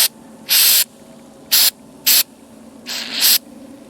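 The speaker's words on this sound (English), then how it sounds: "I found the Corrosion X, so I'll try spraying this on first, liberally" Corrosion X sprays in short, loud hissing bursts onto a rusty motor found in the woods. There are four or five close blasts with quiet gaps between them, and the last burst runs longer.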